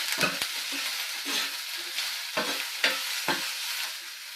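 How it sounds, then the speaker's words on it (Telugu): Onions fry in hot oil for a spicy Rayalaseema erakaram rice while a ladle turns them, sending repeated scraping strokes over a steady close sizzle, with no talking. "ఎర్రగడ్డల్ని గరిటెతో అలాగే తిప్పుతూ ఉండాలి, లేదంటే మాడిపోతాయి."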